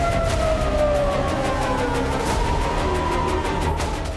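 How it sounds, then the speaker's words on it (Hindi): An air raid alert siren wailing over Tel Aviv during a missile attack, a sustained rising and falling tone that carries through the whole span, loud and continuous with no voices. "तेल अवीव के आसमान पर पहुंची और एयर रेड अलर्ट के सायरन गूंजने"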